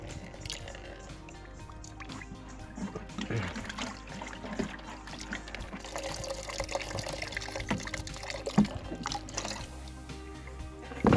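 Soft splashing and dripping as an aquaponics mechanical filter net is dipped and lifted in a water-filled drum, irregular sloshes, fairly quiet with faint background noise.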